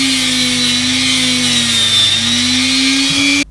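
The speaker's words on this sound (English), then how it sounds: "I'm going to use the Dremel to actually cut that off at 15 millimeters." A Dremel rotary tool's cutting wheel grinds and cuts through metal, a steady loud high-pitched whine with a constant motor tone, running without pause and close by until it cuts off sharply at the end.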